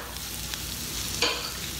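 Sweet potatoes and onions fry in a skillet with a steady, close sizzle, broken by one brief louder hiss and stir partway through.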